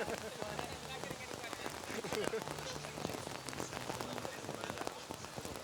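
Steady rain patters across an outdoor archery competition venue, a dense continuous hiss of drops on surfaces with a commentator's voice faintly running beneath it.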